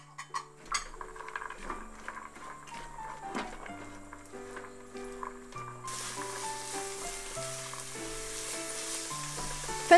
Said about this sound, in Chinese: 以中小火加热， 倒入洋葱和胡萝卜丁